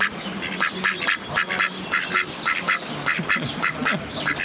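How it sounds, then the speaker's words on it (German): A crowd of ducks by a river in Cappadocia's Ihlara Valley quacks in dense, overlapping bursts, a steady chatter of nasal calls with no voices over it. "Nur sehr viele Enten."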